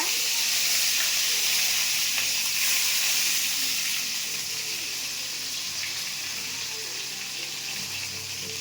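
Curry leaves dropped into a teaspoon of hot oil in a pan, giving a steady, loud, close frying sizzle that eases slightly over several seconds, with no talking.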